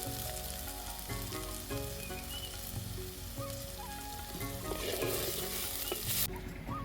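Steady crackling sizzle of figs frying in a pan, with occasional stirring scrapes, fairly close and continuous throughout.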